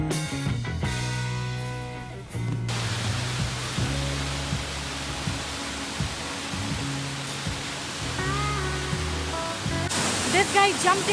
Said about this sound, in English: the waterfalls are beautiful